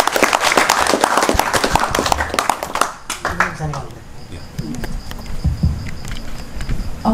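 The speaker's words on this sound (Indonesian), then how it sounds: "Tepuk tangan saya, tepuk tangan saya." Audience applause at a Minggu Wagen film and culture arts gathering, a dense burst of hand claps for about three seconds that thins into scattered claps with voices talking over them.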